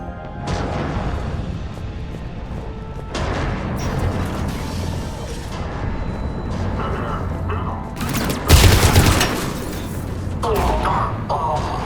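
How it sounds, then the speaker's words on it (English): Heavy cannon fire in the Mass Effect 3 sci-fi battle, with deep booms and mechanical rumble layered over dense combat noise, peaking in a loud blast near the end. "Those cannons have to be stopped."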